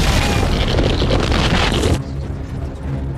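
A film-effect earthquake rumble as a ground fault splits open: a loud, dense roar of deep rumbling and crackling debris for about two seconds, then cutting to a quieter low-frequency rumble that continues alone.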